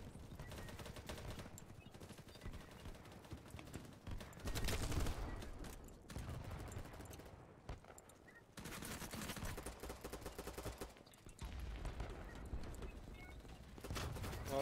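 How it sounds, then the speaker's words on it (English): Faint, distant gunfire crackles in repeated bursts of rapid shots, separated by brief lulls. "Somebody's shooting something here."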